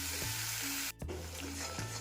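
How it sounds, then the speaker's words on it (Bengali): Spice paste sizzles steadily in a hot pan over medium gas while being stir-fried for an egg and soybean curry, a close, continuous hiss broken by brief scrapes of stirring. "এবার ভালো করে মশলাটাকে নেড়ে চেড়ে কষিয়ে নেব।"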